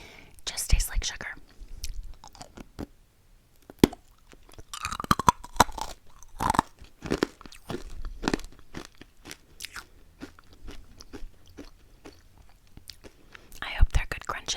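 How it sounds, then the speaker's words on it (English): Crunchy sugar stick candy is chewed and bitten close to the microphone, producing sharp repeated crunches and crackles, with soft whispering between bites. "I hope they're good crunches for you."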